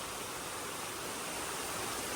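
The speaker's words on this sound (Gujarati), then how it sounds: "જો ભાઈ વરસાદ આવે છે," Heavy rain pours down in a dense, unbroken hiss, loud and steady throughout with no voices over it.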